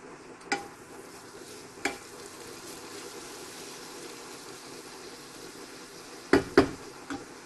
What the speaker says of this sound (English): Don't forget to stir it occasionally.